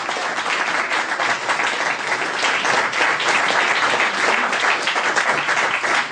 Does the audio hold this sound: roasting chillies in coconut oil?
no